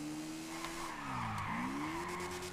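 A car in a video game drifts with a sustained tire skid, a tonal squeal that dips in pitch and climbs back up, steady and close over a low engine drone with no voice.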